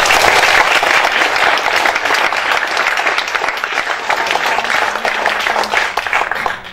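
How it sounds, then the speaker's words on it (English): Sustained, dense applause from an audience after an evening panel discussion, steady and loud throughout before fading slightly at the end. "Can we give you a round of applause first of all?"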